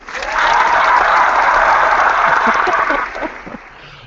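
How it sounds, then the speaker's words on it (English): A burst of clapping from a small group, loud and dense for about three seconds before tapering off into a few scattered claps. "It's a round of applause."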